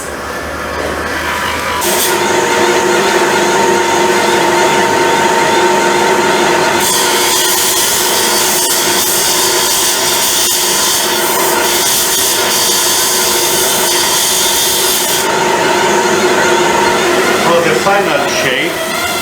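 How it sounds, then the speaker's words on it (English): A carborundum grinder works the edges of a cut stone, giving off a loud, steady abrasive whir and rasp that runs for most of the span and changes tone as it bites, with some talking in the background. "we went around the edges with this machine here, carborundum, a grinder. We smooth them down."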